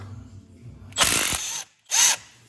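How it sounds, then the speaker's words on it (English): Milwaukee 90-degree cordless impact driver removing a bolt on a BMW 3-Series: two short, loud bursts of rapid hammering, the first about half a second long, the second briefer with a rising whine as it winds down. "I just thought I'd get you a visual on this 90-degree impact driver. Taking out a bolt."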